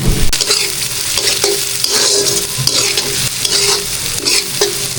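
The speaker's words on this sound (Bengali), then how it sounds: "এটা কিন্তু ভাজবো, ভাজার পরে এটার মধ্যে পেঁয়াজ মরিচ দিয়ে ভাজবো।" Fish oil frying in a pan, a loud close sizzle broken by repeated scraping strokes of a spatula stirring the pan, with no voices.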